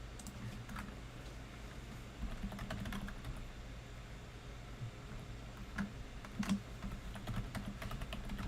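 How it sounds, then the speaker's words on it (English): Soft typing on a Logitech computer keyboard, a steady run of quiet, close key taps with a few louder clacks near the end, set against a low background hum. "this Logitech keyboard is so shit"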